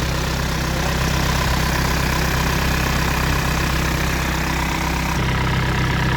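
A 2001 Isuzu Panther pickup's 2500cc direct-injection diesel engine idles with a steady, loud, even drone from close by, running on without pause and with no voices.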